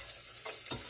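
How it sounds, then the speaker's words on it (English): Garlic cloves frying in hot oil in a pan, a steady close crackling sizzle with bursts of louder spitting near the end, heard alone. "So we'll start frying the garlic cloves a little bit"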